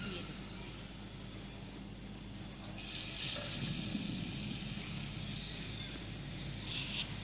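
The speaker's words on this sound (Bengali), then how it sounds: "দেখুন কড়াইতে তেলটা প্রায় গরম হয়ে এসছে। এবারে আমি গোল গোল করে এটা এবার কড়াইতে আস্তে আস্তে করে দিয়ে দেব।" Potato and egg kofta balls go into hot oil in a wok, giving a soft, steady sizzle and crackle that continues quietly throughout, with faint background sounds.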